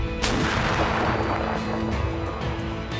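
Loud, sustained rumbling blast with a sharp onset, an artillery gun firing nearby in Donetsk region, its roar filling the whole clip.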